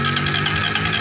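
Suzuki GSX motorcycle with a weak starter and engine-control fault, started with the starter button: loud, steady mechanical cranking and engine noise fills the whole second, with no talking.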